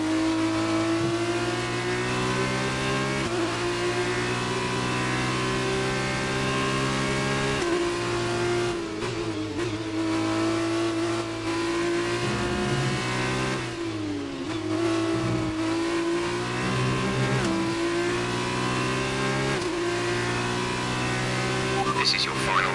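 Race cars in a PS4 racing game, with engines droning and revving steadily for the whole stretch as gears shift up and down, loud and continuous with no pauses.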